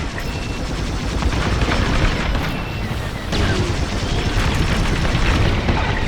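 Starfighter laser cannons firing in the Star Wars Squadrons space combat game, a dense, loud, continuous barrage of rapid blasts layered over engine roar, with no pauses.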